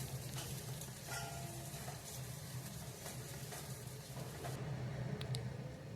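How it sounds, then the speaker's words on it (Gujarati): Chopped onion, tomato and chili fry in a pan for an eggplant oro, making a continuous low sizzle with light stirring, steady and fairly quiet, with no talking. "અને બધું આપણે હલાવી લઈશું."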